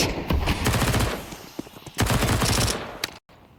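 Rapid gunfire in a Counter-Strike match on Vertigo, two close bursts of loud automatic shots about a second and a half apart, then a sharp cutoff.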